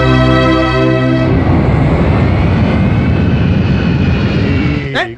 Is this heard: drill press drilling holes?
no